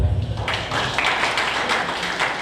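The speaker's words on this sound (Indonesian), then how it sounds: "beri ketepukan buat Tuhan" A church congregation claps during a worship service, a thick crowd of hands with a loosely rhythmic pulse of repeated surges, fairly loud and continuous, with no voice on top.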